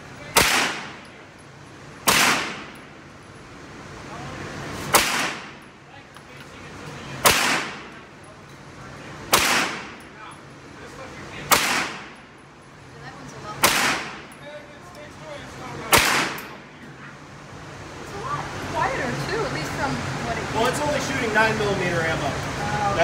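Eight sharp gunshots ring out at a shooting range, evenly spaced about two seconds apart, each loud and echoing with a short decay, followed by people talking as the firing stops.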